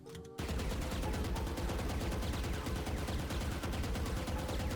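Vandal rifle in Valorant fired in a continuous full-auto spray, a rapid, evenly spaced stream of loud sharp shots lasting over four seconds, close and alone without talk.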